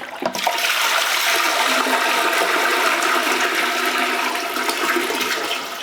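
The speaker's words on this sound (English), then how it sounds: "Then I'm just going to grab my handle and dump away." An RV black waste tank drains through its outflow pipe in a loud, continuous rushing gush of water and waste, close and steady throughout after a brief start.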